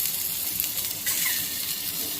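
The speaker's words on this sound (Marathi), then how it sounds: "इथे पहा त्याच तव्यामध्ये थोडंसं तेल टाकलेलं आहे आणि जी आपण शिजवलेली अंडी आहेत की नाही ती थोडीशी तव्यावर शेकून घेतलेली आहे." Boiled eggs sizzle in a little oil on a tawa, a steady close frying crackle with a brief louder spit midway, no voices over it.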